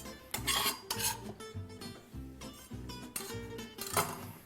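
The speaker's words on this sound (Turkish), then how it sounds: "Şimdi geri dönüyorum etlerimin olduğu tavaya. Mantarlarımızı koyuyoruz." Mushrooms tipped into a pan of meat make rasping scrapes and metallic clatter in short repeated bursts, close and moderately loud over a steady low background.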